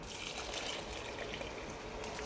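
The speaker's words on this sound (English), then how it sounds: "Alright, so I'm gonna add the coconut milk now." Coconut milk pours into a pot of seasoned rice for Jamaican rice with callaloo, a steady, close liquid trickle and splash that runs without break and without any voices.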